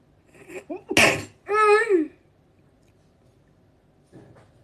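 A single sharp, close sneeze bursts out, followed by a short breathy vocal sound and then near silence with a faint rustle at the end.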